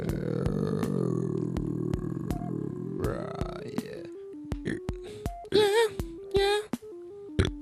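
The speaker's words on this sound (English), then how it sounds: "That's what that burp was." A single drawn-out burp, loud and close, rumbles for several seconds before breaking into scattered, laughing voices and short bursts of chatter.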